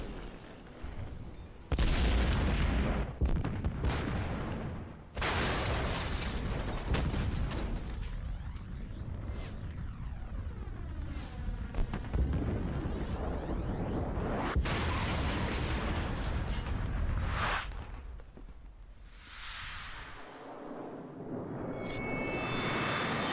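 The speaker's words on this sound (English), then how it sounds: "explosion that would have done Michael Bay proud." A large explosion in a video game cutscene in Stacking: loud sustained booming and rumbling blasts with roaring debris and sweeping effects that go on for over twenty seconds, then ease off toward the end.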